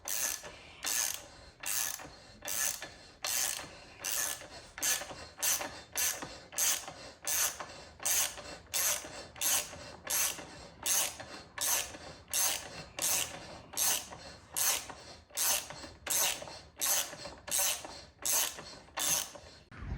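A ratcheting tool working to remove the axle from a BMW S1000RR motorcycle, clicking in regular back-and-forth bursts about once a second, loud and close, repeated steadily for the whole stretch with no voices.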